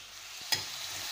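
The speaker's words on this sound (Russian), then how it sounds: "Вначале я обжариваю на растительном масле" Onion and carrot frying in vegetable oil in a pan for a meatball vegetable sauce, a soft steady sizzle with one brief louder burst of stirring midway, close and without voices.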